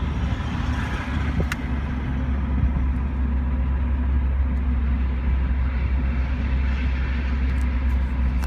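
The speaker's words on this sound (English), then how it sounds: "Car has a great sound to it. It is a stock muffler on the vehicle." A 2001 Mazda Miata engine with a stock muffler runs steadily with a deep, constant low rumble and hum, loud and continuous throughout, with a brief click near the start.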